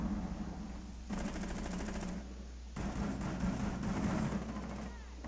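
Automatic gunfire in a Rainbow Six Siege house team-deathmatch hostage match comes as two sustained rapid bursts of shots, each lasting a second or two. The bursts are separated by a brief gap and sit over a low, steady game hum.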